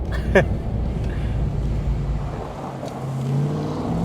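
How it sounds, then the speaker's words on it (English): A 2021 Ram 1500 TRX pickup with a 700 horsepower supercharged engine drives on a gravel road, its engine rumble and rising whine loud and close inside the cab, with a brief tonal sweep early on. "And just listening to the supercharger go, it's so entertaining."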